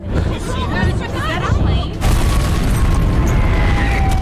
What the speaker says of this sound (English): they saw explosions and raging fires across the landscape below